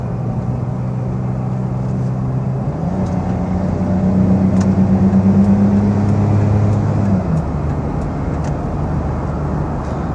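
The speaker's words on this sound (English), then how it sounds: "Give it a little gas." A 1998 Dodge Caravan wheelchair-accessible minivan accelerates toward highway speed, its engine drone rising and holding steady, then dropping as the transmission shifts, loud and close with no talking.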